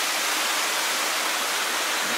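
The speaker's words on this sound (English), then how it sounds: "Look down at the creek." A creek near an old mine at Monte Arsiccio in Italy rushes steadily, a dense close wash of flowing water with no voices.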